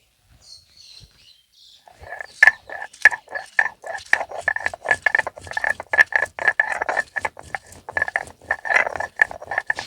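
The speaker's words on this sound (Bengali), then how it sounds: "এখন আমি কটা কাঁচা লঙ্কা তিনটে শুকনো লঙ্কা একসঙ্গে বেটে নেব রসুন একসঙ্গে বেটে নেবো" Green chilies, dried chilies and garlic are ground into a paste on a stone, heard as a quick run of close, rhythmic scraping and knocking strokes that starts after a quiet moment and keeps going steadily.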